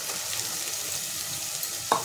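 Chopped onion sautéing in a pan over already-fried capsicum, giving a continuous close sizzle for a couple of seconds with a single light clink of a utensil near the end.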